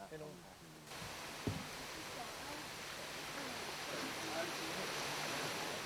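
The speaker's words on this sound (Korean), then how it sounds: "두 사람이 처음 찾은 곳은 천회촌 계곡의 흑룡담 폭포." Heilongtan waterfall in the Tianhui village valley on Mount Tai, a steady broadband rush of falling water that holds constant and fairly loud throughout, with one brief knock near the start.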